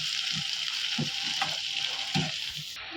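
Chicken liver and green chillies fry in a pan with a dense, continuous close sizzle, broken by a few soft thumps and scrapes of stirring.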